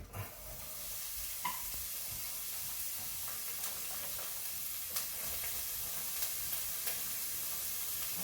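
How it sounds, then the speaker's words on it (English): Onions sizzling in olive oil in a hot pan, a steady broadband hiss with occasional faint pops and stirring clicks, close and continuous with no talking. "Then I'm going to grab these onions, jam those in there."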